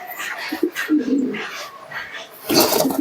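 Pigeons kept in a loft give a few close, throaty coos amid rustling and bursts of movement noise.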